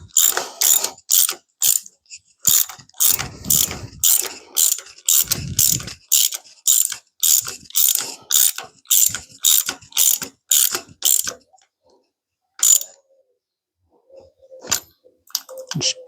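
Socket ratchet clicking while rocker arms are adjusted on a big block Chevy engine: about twenty quick, evenly spaced bursts of sharp clicks, loud and close, then a few scattered faint clicks and a short low tone near the end.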